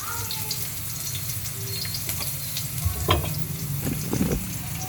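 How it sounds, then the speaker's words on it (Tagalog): Garlic fries in a pan for a Chinese-style home dish with a steady, close sizzle. Occasional clinks of stirring and faint voices sound over the frying. "Lagay muna natin ang bawang."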